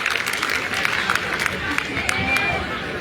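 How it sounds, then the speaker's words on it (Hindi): An audience of chartered accountants applauds at a seminar, producing steady, dense clapping with a murmur of crowd noise underneath and scattered sharper claps across the whole stretch. "तालियों में कंजूसी ना करें और जो तालियां हो जाए"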